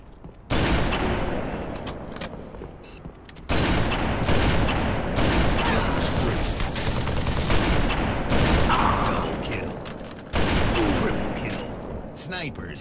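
Sniper rifle gunfire in the Halo video game on The Pit map: heavy booming shots within a dense, continuous mix of game effects, with a game announcer's voice over the action.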